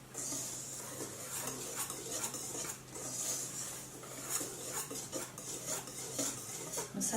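A utensil stirs gluten-free gingerbread batter in a bowl, giving steady scraping and clinking against the bowl in a continuous close rhythm.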